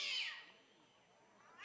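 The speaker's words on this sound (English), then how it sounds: "a cat has made its presence known on the PA system" A single drawn-out cat meow over a baseball stadium PA system, loud at first then fading, with the start of another at the end, sounding slightly distant and amplified.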